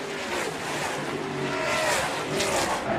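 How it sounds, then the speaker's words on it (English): NASCAR Canada Series race cars at full speed down the Andretti straightaway at Mosport, a loud sustained engine roar with rising and falling pitch as the cars pass, and a commentator talking over it. "just love hearing the engine note from these NASCAR Canada Series cars as they head down the Andretti straightaway"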